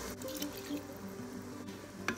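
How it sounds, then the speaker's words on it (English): Water pouring into soaked basmati rice in a Ninja Foodi pot, a steady close splashing and trickling of liquid filling the cooking pot with no talk. "Lastly, I'm adding 2 1/4 cups of water."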